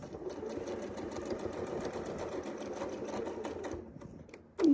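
A sewing machine stitching a straight quilt seam runs at a steady rapid rhythm, its needle chatter continuous and close for about four seconds before stopping abruptly, followed by a short squeak.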